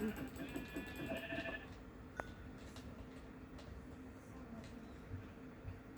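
Sheep bleating in an outdoor setting, with several harmonic calls clustered early on and a sharp click partway through over steady low background noise; faint voices are present.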